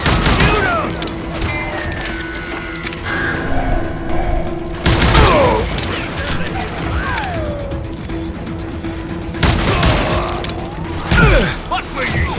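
Gunfire rings out in the Western shooter game Call of Juarez Gunslinger, several sharp shot bursts spaced a few seconds apart with game voices shouting in between over a steady background hum.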